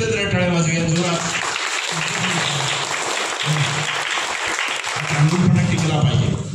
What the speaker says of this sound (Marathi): हां त्यामुळे परत एकदा जरा टाळ्या वाजवूया जोरात.